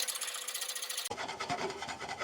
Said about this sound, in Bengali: সো আমি এই ডাউলটা ভালো করে ভেজে নিচ্ছি